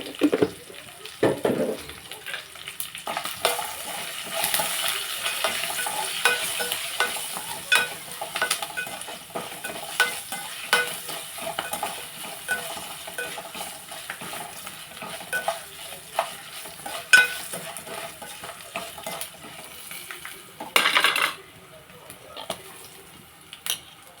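Lemon rice is stirred and fried in a pan, with a spoon scraping and clinking in irregular strokes over a light sizzle, close and fairly quiet, with brief bits of voice at the start and near the end.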